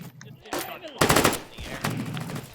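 Rapid bursts of PDW fire in the VR shooter H3VR, loud and close, in several quick strings with short pauses between them.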